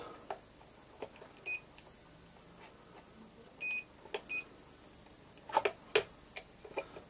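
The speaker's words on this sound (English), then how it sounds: "if there's a connection between two points it'll beep" Several short electronic beeps from a multimeter continuity test ring out at irregular intervals, some brief and one longer, over faint clicks and handling noise in a quiet room.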